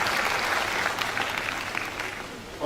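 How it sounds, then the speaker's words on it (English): Brief burst of audience applause for a professor at his valedictory lecture, dense steady clapping that thins slightly toward the end. "A round of applause for Baba."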